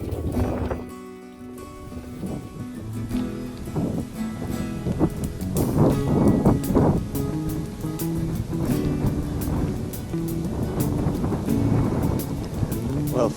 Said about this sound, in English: it's quite windy and the rain has picked up again